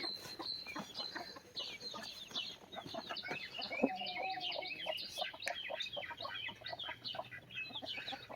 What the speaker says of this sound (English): And we got Mama over here with the little chicks.